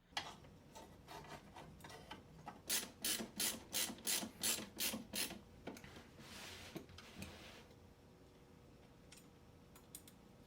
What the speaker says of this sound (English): use the other fan's 4 screws to reattach the new fan to the power supply casing